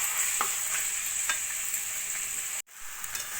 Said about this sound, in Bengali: জলটা দিয়ে গ্যাসের ফ্লেমটা জোর দিয়ে ভালো করে আলুর সঙ্গে মিশিয়ে নেব।